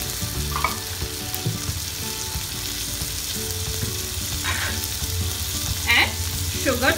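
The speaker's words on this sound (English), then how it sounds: "Saute it nicely." Spices, garam masala and cashew nuts sizzle in a pan for tomato paneer rice, a continuous frying hiss broken by a few stirring scrapes near the end, with no talking.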